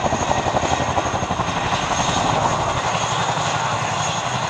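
A helicopter comes in for a running landing and flares, its engine and rotor giving a loud, steady, close roar with a fast rhythmic chop throughout.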